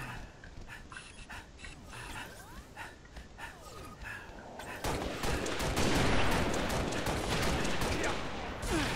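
Sniper rifle shots from a video game crack out over a constant low rumble, joined by quicker bursts in the louder second half, with people talking throughout.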